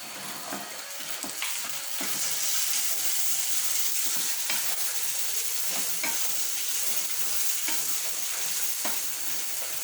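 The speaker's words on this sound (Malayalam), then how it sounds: "നന്നായിട്ടൊന്ന് മിക്സ് ചെയ്ത് കൊടുക്കാം." Liver fry with spices being stirred in a pan: a steady close sizzle runs throughout, broken by repeated scraping and tapping strokes of a spoon against the pan.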